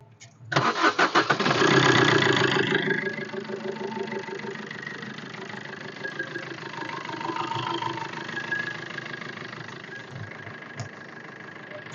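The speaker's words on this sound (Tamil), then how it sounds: "ஏதாச்சும் இன்ஜின் சவுண்ட் எப்படி இருக்குங்கிறத பாருங்கள்" A used Maruti Suzuki Vitara Brezza ZDi+ diesel engine cranks and catches with a loud rising roar, then settles into a steady, quieter idle that runs on.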